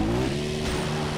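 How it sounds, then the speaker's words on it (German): A buggy driven in the video game Far Cry 3, its engine a steady, loud drone with layered harmonic hum and a faint hint of tire noise, held evenly through the whole short stretch. "Wir nehmen doch gleich den Buggy und fahren mit dem weiter."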